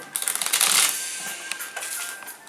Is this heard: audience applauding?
no